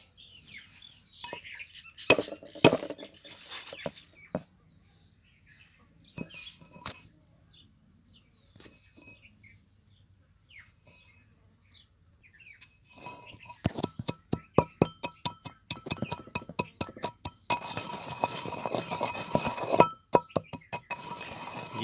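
Oyster shell ground in a stone mortar (kharal), a long run of rapid, repeated clinking and scraping strikes, near and fairly loud, following quieter scattered knocks and pauses.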